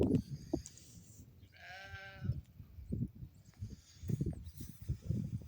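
Goats and dumba sheep bleat in a pen in Saudi Arabia, a clear tonal bleat standing out in the middle among scattered rustling, shuffling and softer animal calls, moderately close.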